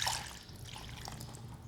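Liquid poured into a bowl of dry baking ingredients gives a soft, steady trickle lasting a couple of seconds, close and fairly quiet, with no talking over it.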